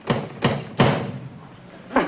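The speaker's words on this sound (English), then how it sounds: "He knocks on the door." Three sharp knocks land on a door in quick succession, then a pause and a fourth knock, close and fairly loud, each with a short thudding decay.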